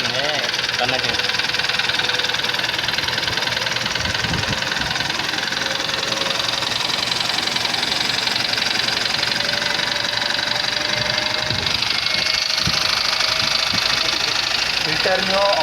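A car engine idles with a bent connecting rod, giving a steady, loud running drone with a faint repetitive knock throughout, and there is no talk.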